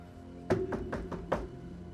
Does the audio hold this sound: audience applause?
no